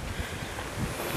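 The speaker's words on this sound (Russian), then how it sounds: "Но видите, ветроган какой ужасный." Strong wind buffets the microphone in an empty park in spring, a steady low roaring rumble with gusts swelling throughout and no voices.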